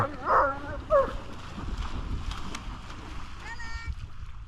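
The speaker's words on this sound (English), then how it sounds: "This family got like 4 dogs." A couple of sharp dog barks up front, then a quieter yip later, over steady outdoor background rumble.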